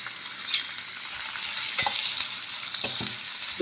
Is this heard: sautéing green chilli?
yes